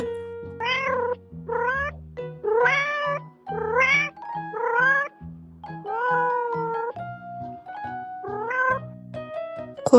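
A domestic cat meows again and again, about eight clear, drawn-out meows in a quick, uneven series, close and loud with short gaps and no talking.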